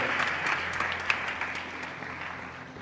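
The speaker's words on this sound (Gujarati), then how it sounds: "એકવાર જોરદાર તાળીઓના નાદથી" An audience at a religious gathering applauds warmly, a steady wash of many hands clapping that gradually fades over a few seconds.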